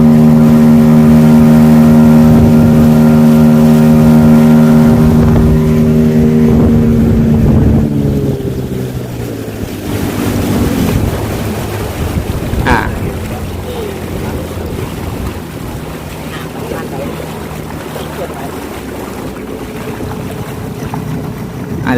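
A WiT Bass Boat 390 motorboat engine runs loud and close on open water, its strong hum droning steadily before dropping in pitch and blending into rushing wind and water noise.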